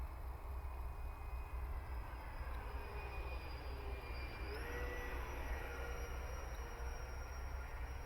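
A ReReMaiden Futura 64mm electric ducted-fan RC jet on a 6S battery flies slowly with half flaps, giving a steady, distant whine that shifts pitch slightly midway over constant outdoor background noise.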